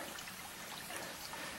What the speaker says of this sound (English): Water definitely running downhill.